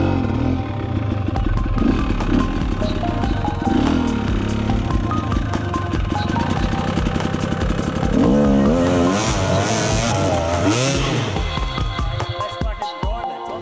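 An enduro motorbike on a slippery climb over a log in Romaniacs cross-training revs hard and continuously up close. The engine note rises and falls in bursts with clattering, and faint voices come through near the end.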